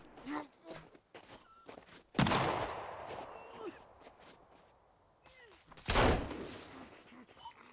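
A companion character in Sons of the Forest fires a shotgun and a pistol, two loud sharp blasts a few seconds apart amid game footsteps and rustling, with a player talking between shots.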